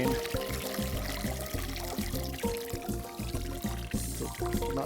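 Water pouring and splashing out of an Aquabot pool robot cleaner held up to drain, a steady close gushing stream with bubbling gurgles throughout, no talk.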